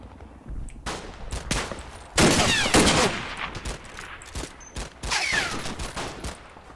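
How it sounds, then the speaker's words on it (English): Gunfire in the World War II Italy wargame Combat Mission Fortress Italy: scattered rifle cracks build into two dense rattling volleys of automatic fire, loud and mid-distance, with no talk over it. "Just get a sense of the wave of fire that came back at this guy."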